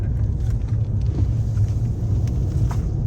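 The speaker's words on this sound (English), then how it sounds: "this damn truck handles nicely" A Nissan Titan pickup truck drives along a curvy road, giving a continuous low engine rumble and road roar from inside the cab, with no voices.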